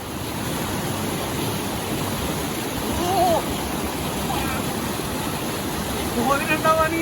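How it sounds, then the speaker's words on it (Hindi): Loud, steady roar of rushing water at a waterfall near McLeod Ganj, a broad continuous wash that stays close and constant, with faint voices briefly audible under it. "पानी की बहुत ही ज़ोरदार आवाज़ आ रही है"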